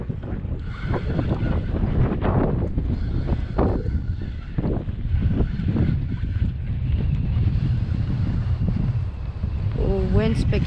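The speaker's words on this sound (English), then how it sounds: "wind's picking up, getting a bit cold." Steady wind rushes over the water around a kayak out fishing off Auckland, a continuous broadband buffeting close to the microphone, with a person's voice intermittently over it.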